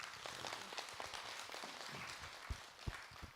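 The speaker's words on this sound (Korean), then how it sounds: "박수로 맞으세요." A seated audience at a Buddhist dharma talk gives quiet, scattered clapping, heard faint and distant, with a few sharper nearby claps toward the end.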